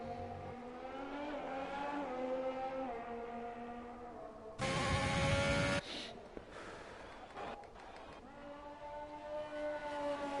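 Race cars in a PS4 racing game hum along a track, steady tonal engine drones with pitch shifts as they pass, and a brief louder rush midway; no voices.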